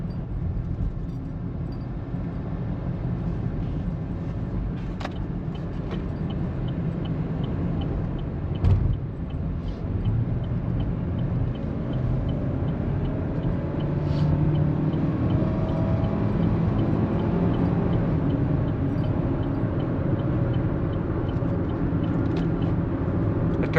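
A GMC Terrain with a small turbocharged four-cylinder cruises on the highway, giving a steady, close cabin rumble of road and engine noise that holds throughout, with one brief thump partway through.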